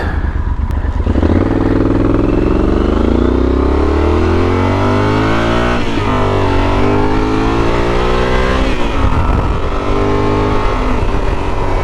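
A Yamaha Super Tenere motorcycle fitted with an upgraded aftermarket exhaust, revving loudly and up close, its engine note climbing and falling through several strong throttle blips with no voices.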